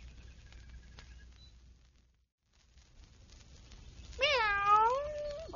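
A cat gives a clear, drawn-out meow close by after a quiet stretch, followed by the start of another, against a faint low background hum.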